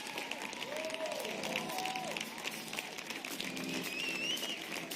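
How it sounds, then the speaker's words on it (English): An audience gives a standing ovation for Mr. Jamie Minton: steady, dense applause that stays at an even, moderately loud level across the whole stretch, with voices and sustained tones running through it. "give a big round of applause, stand ovation for Mr. Jamie Minton."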